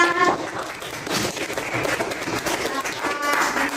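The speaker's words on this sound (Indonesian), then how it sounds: "tepuk tangan buat Kaisan" Students in a classroom give a short round of applause for a classmate, a scattered patter of clapping with a teacher's voice talking over part of it.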